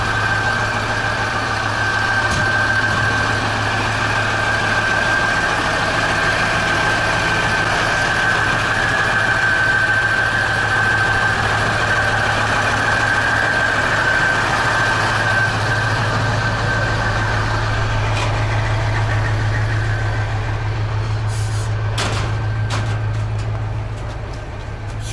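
Ural 4320 truck with its cold engine idling, a steady low diesel rumble with a whining tone held throughout, then a few clunks near the end as it prepares to drive off.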